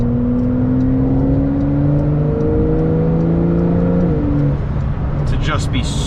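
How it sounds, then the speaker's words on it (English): A Porsche 911 Carrera 4 GTS with a double-clutch transmission hums steadily from inside the cabin, its engine note rising gradually before shifting and settling, with road noise underneath. "The exhaust notes in this car, phenomenal"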